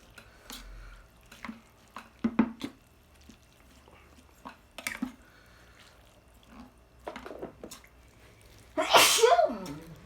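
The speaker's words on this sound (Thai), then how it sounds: "เกิดการจามพริกเล็กน้อยนะครับ" A sharp, loud sneeze set off by roasted chili comes near the end, after scattered small clinks, drips and kitchen noises in a quiet room.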